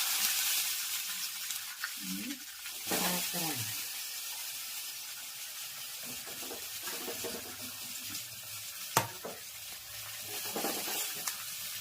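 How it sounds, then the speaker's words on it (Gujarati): Soft, steady sizzling of patra, colocasia-leaf rolls, stir-fried in tempering oil with sesame, with occasional scrapes and clatters from stirring and a few faint voices. "મજાનો પાત્રાનો વઘાર થઈ ગયો છે"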